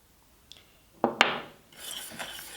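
Rice flour is stirred into oil in a saucepan while making a scouring cream, giving a few brief scrapes and clinks followed by a soft, continuous rubbing.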